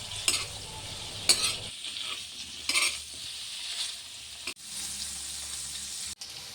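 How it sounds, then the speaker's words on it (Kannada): Cubed paneer fries in half a tablespoon of ghee until browned, a soft steady sizzle broken by several sharp stirring scrapes of a utensil against the pan. "ಅರ್ಧ ಟೇಬಲ್ ಸ್ಪೂನ್ ತುಪ್ಪ, ಕತ್ತರಿಸಿಟ್ಟಂತಹ ಪನ್ನೀರನ್ನು ಹಾಕಿ ಕಂದು ಬಣ್ಣ ಬರುವವರೆಗೆ ಹುರಿಯಿರಿ"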